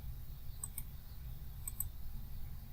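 Faint computer mouse clicks come in two quick double bursts about a second apart over a quiet room hum.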